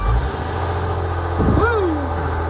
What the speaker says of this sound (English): what we want to see is if it starts.